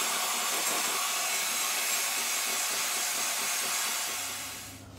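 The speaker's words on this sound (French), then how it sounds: "Et je vais fouetter encore." An electric whisk beats a cream mixture thickened with cornstarch for a pastry cream. A steady, loud whirring hiss runs continuously and fades slightly at the end, with no voices.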